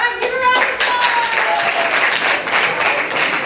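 A school audience applauds freshman student council candidates at a debate, a dense wash of clapping that swells quickly and holds steady, with a voice heard faintly over it at the start.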